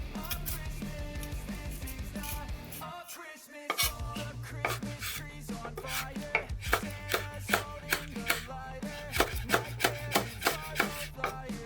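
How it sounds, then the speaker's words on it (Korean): A knife minces thawing, slightly softened frozen cheongyang chili peppers, with seeds and stems removed, on a cutting board: quick, steady chopping taps that grow sharper and more regular, close up, over quiet background music. "청양고추는 이렇게 다져서 사용하도록 하겠습니다."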